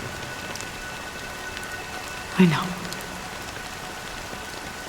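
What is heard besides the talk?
rain falling in video game Honkai Star Rail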